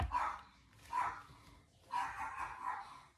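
A dog barks in three bursts, the last one longer and sustained, at moderate loudness close by, with no talking.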